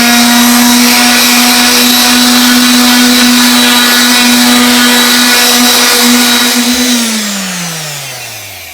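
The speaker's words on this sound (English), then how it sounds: "we decided to break out the power sander" A power sander works over cardboard picture frames, a loud, close, steady high whine with a constant motor tone that drops in pitch as the tool spins down near the end.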